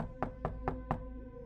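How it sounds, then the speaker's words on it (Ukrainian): Four evenly spaced knocks on a door, crisp and fairly close, in a quick steady rhythm with nothing else heard, used as an audiobook sound effect. "у двері, що виходили на вулицю, хтось постукав"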